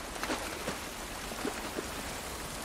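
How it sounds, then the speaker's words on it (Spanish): Rain falls outdoors in The Last of Us remake on PS5, a soft, steady hiss of drops with a few faint splashes scattered through, quiet and continuous. "Esta lluvia no nos va a ayudar."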